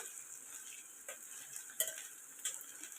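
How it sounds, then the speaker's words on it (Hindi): Capsicum and tomatoes frying with eggs in a pan give a faint, steady hiss, with a few soft utensil taps scattered across it. "इसको भी ज़रा थोड़ा सा फ्राई कर लेंगे।"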